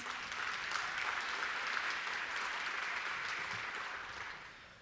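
Steady, dense applause from a luncheon audience at a school district teaching-excellence event, sustained and even throughout before tapering slightly at the end.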